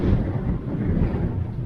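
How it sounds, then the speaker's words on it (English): Steady low rumbling wind on a Greek island buffeting the microphone, continuous and fairly loud throughout, with no voices. "it isn't always this windy"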